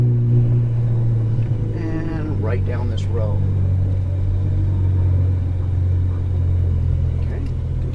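A Ferrari 458 Italia driving slowly, its deep, steady engine rumble running close and constant beneath a voice giving directions.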